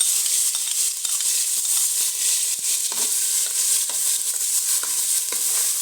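A paste of garlic, ginger and onion fries in hot oil for Peshawari daal mash, a continuous bright sizzle with scattered crackles and soft stirring scrapes, close and loud with no talk.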